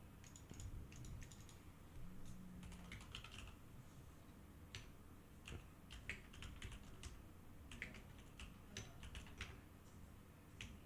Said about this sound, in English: Can y'all hear my keyboard, by the way?